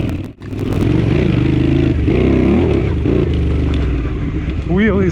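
A Honda CX500 motorcycle rides a harescramble off-road course, its engine droning steadily and revving close by, with clatter from the rough ground and speech over the engine.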